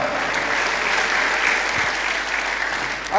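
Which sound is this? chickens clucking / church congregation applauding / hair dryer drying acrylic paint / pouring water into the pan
church congregation applauding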